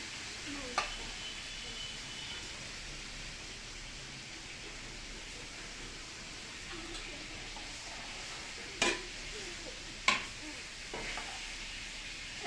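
Greens stir-fried in rohu fish oil make a faint, steady sizzle, with a few sharp clicks of the utensil against the pan.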